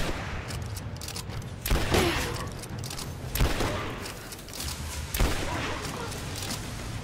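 Rifle gunfire in the video game Rise of the Tomb Raider, four sharp booming shots spaced a second or more apart over a rumbling background of game ambience.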